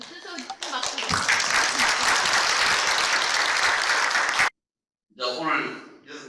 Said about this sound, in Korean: 모두 큰 박수로.